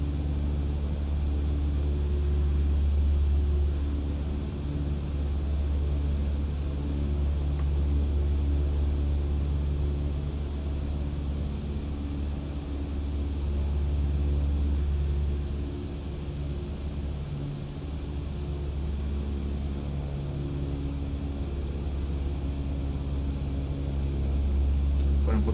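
Simulated Cessna 152 engine in Microsoft Flight Simulator during a descent toward landing, a steady droning propeller hum that stays loud and even throughout with only slight swells, no talking.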